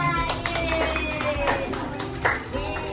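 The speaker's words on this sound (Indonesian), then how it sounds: "Buat minta tepuk tangan dulu buat temennya." Students applauding a classmate during a college project event, scattered uneven clapping from a room of people, with voices talking over it.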